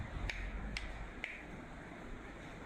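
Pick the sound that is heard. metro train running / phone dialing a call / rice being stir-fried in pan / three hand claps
three hand claps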